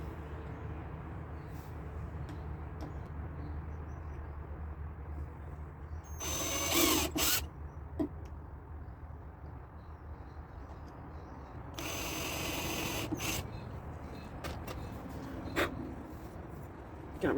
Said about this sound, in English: I'm pre-drilling.